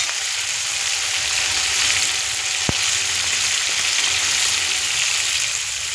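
Chili powder and spices fry in the oil left from frying fish in a kadai, a loud continuous sizzle with one sharp clink partway through.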